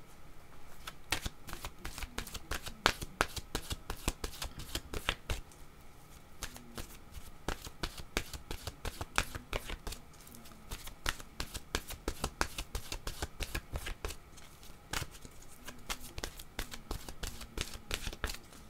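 Oracle cards are shuffled continuously by hand, a dense, rapid flutter of riffling taps with brief pauses, close and moderately quiet.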